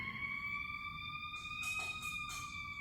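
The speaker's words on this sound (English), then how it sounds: "Let's wait for the siren to end" A steady electronic siren wails continuously with layered tones, joined by a few short bursts of noise near the end.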